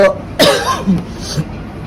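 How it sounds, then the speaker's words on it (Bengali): A single sharp cough bursts out, followed by a softer throat-clearing rasp, close to the listener in a quiet room. "আমার একটু কাশি হইতে পারে"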